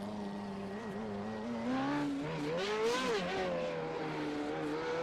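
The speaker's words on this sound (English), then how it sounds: "donuts being done across the grid and on the pit entry" Race car engines in the iRacing simulator, FR3.5 single-seaters doing donuts on the grid and pit entry, a faint revving drone with rising and falling pitch and tyre noise, no talking.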